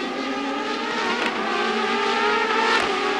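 CART Indy race cars scream past at speed during the Cleveland Grand Prix street race. The engine roar is loud and continuous, rising and falling slightly as cars draft and brake.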